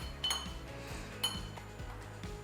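A spoon stirs lemon ginger cinnamon tea in a cup, giving a few light metallic clinks against the sides over a soft steady background, close and fairly quiet.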